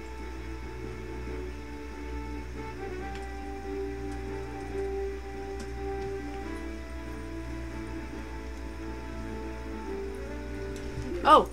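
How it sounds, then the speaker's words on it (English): Steady rain falling in The Legend of Zelda: The Wind Waker, a soft continuous patter over a low background hum, with no talk until a brief louder burst at the very end. "Yes, it's raining, that's good."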